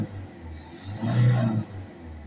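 A Volvo C30 1.6 HDi diesel engine with a blocked particle filter revs up once and settles back down, a moderate steady drone rising briefly in pitch and volume before easing off.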